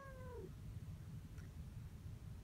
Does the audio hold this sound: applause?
no